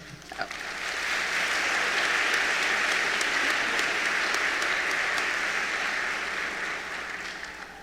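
A high school senior assembly audience claps for the graduating seniors, applause swelling from a few early claps into a full sustained wash of many hands before tapering off.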